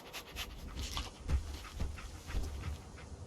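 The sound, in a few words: dog Dogmeat panting in video game Fallout 4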